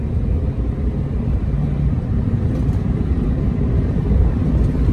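A car drives along with loud, steady low rumble of engine and wheel and tire roar filling the whole stretch, no voices.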